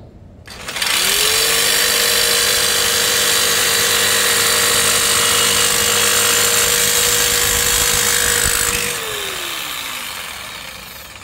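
A DongCheng DMQ85S jigsaw cuts oiled metal, motor whining loud and steady with a rasping blade chatter for about eight seconds, then winding down as the cut ends.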